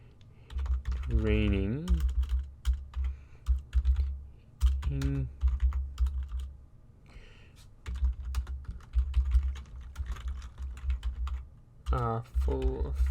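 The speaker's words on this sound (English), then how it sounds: "I'm not very good at typing and talking at the same time" Typing on a computer keyboard while playing the game Outlanders 3, a close, irregular patter of clicking keystrokes in bursts, interrupted by someone speaking briefly several times.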